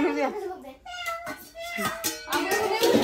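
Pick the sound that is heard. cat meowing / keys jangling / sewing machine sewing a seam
cat meowing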